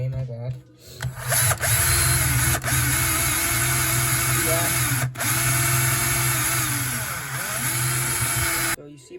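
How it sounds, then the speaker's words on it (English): A power drill with a 4mm bit boring out the rivets on a Hot Wheels die-cast toy car, a loud, steady, close whine that runs for several seconds, with brief dips and pauses. "you're just gonna want to drill straight into this right there."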